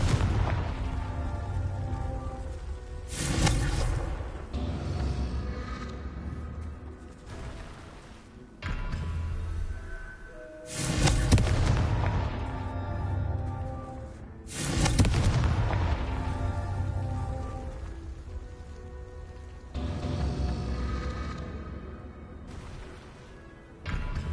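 Booming blasts from the Confringo blasting spell erupt repeatedly in Hogwarts Legacy. Several heavy explosions arrive at irregular intervals over a rumbling, busy game soundscape, loud and broad.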